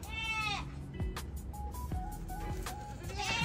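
Goats at a livestock sale in Cabanatuan City bleat several times, a few wavering cries at the start and end over a busy background murmur.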